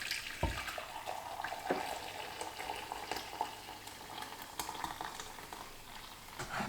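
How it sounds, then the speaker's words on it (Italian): Lentil cooking liquid poured from a pot into a container, a steady splashing, trickling pour of hot water running continuously close by, with a few sharper knocks and clinks along the way. "scoliamo il liquido di cottura delle lenticchie, ma lo conserviamo"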